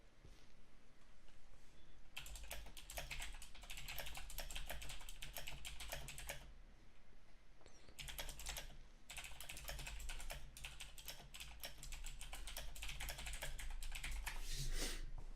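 Fast typing on a computer keyboard, dense rapid clattering bursts of keystrokes broken by short pauses, close and fairly quiet, with no talking.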